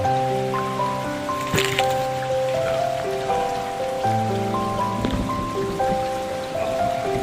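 A continuous, splashing wash of overflowing water in a forest, close and even like rain pattering on a surface, with background music playing steadily over the flow.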